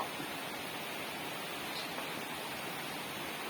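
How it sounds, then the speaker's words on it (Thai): Steady outdoor rain hisses evenly across the whole stretch, a dense, continuous wash of falling drops with no voices or other distinct sounds breaking through. "ตอนนี้ฝนตกนะครับ"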